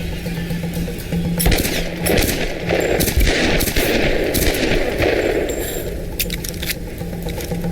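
Rapid automatic gunfire and scattered shots in the Tomb Raider video game, loud and continuous with a steady background hum, clattering bursts over roughly eight seconds.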